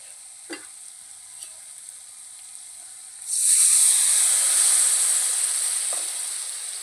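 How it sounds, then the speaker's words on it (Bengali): Water poured into hot fried spice paste for a fish curry, setting off a sudden loud hissing sizzle after a few quiet seconds of faint frying, then slowly easing off. "দেখো আমি একটু জল অ্যাড করে দিলাম"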